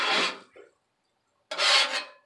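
A metal spatula scrapes across a flat-top griddle in two short, close raspy strokes separated by a brief pause of silence.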